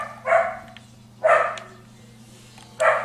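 A dog barks three times with gaps between, each a sharp mid-volume bark from a short distance, over a faint steady hum.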